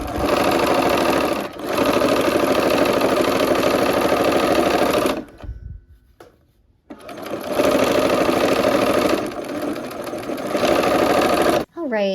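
A sewing machine stitches quilt pieces in loud, fast rhythmic bursts, running for several seconds, pausing briefly with some handling noise, then starting up again at full speed.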